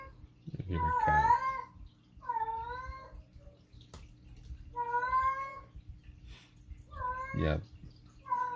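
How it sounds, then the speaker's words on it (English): A pet cat meows repeatedly indoors, several drawn-out, rising and falling cries spaced a second or two apart, close and clear over a low steady background hum. "Hear my cat."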